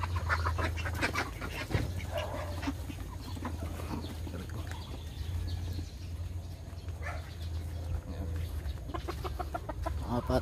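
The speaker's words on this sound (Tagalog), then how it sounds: "Mga pato." Farmyard ducks and chickens on a Philippine farm clucking and quacking at close to middle distance, with scattered calls over steady background noise and occasional talk.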